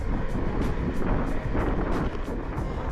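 Heavy wind buffets a microphone on a bicycle ride through open countryside between Sendai and Fukushima, a loud continuous rushing roar with rhythmic gusty pulses and no voice.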